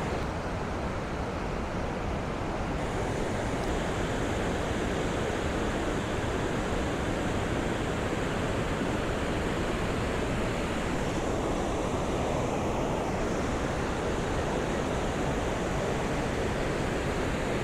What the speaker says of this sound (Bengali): মাঝখানে এরকম সুন্দর একটা ওয়াটারফলস চলে আসছে